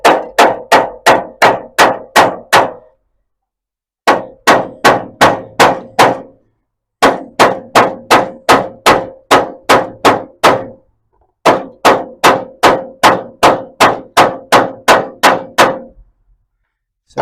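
A hammer taps a cardboard template in a car workshop while a 1937 Ford suspension is being built. The taps come in fast, even runs of about six to eight blows, with short pauses between the runs, loud and close.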